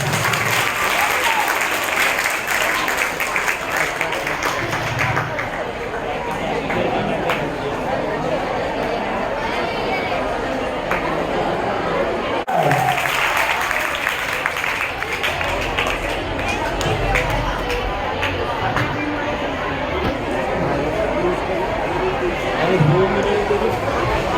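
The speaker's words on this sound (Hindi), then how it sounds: "बच्चों एक बार जोरदार तालियां बजा दीजिए।" Children at a Children's Day 2022 school function clap loudly in a long, sustained roar of many hands, mixed with crowd chatter and movement, continuing steadily for over twenty seconds.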